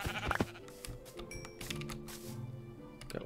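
Sheep bleating in the video game Minecraft, a few short synthetic bleats near the start, quiet and close, with light clicking of a computer keyboard through the rest.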